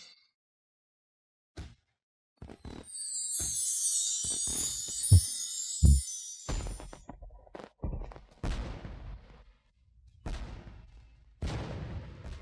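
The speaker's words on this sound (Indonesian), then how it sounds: "Dari mana asal kembang api itu?" Fireworks burst in a series of sharp booms and cracks, some far and some close, with a fizzing hiss early on and gaps of silence between scattered blasts.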